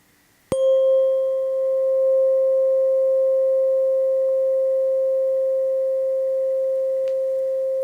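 A struck tuning fork in a calm meditation session: one sharp strike, then a pure, steady ringing tone that holds nearly unchanged, fading only slightly over several seconds, with no voices.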